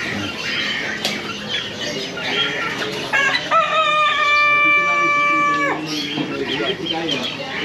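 Rooster crowing loudly and close, a sustained harmonic call of about two seconds, among squawking and clucking chickens at a bustling bird market in Solo, Central Java, with people talking in the background.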